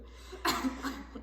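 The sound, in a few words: coughing after choking on water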